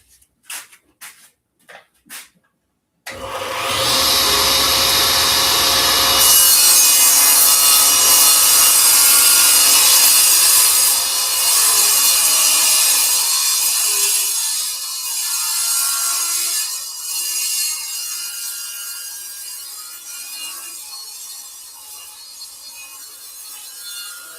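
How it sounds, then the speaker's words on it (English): A saw ripping 2x4 lumber lengthwise: a few short knocks, then a loud, continuous close-up cut that runs for about twenty seconds and gradually fades toward the end. "I'm gonna rip up these 2x4s real quick"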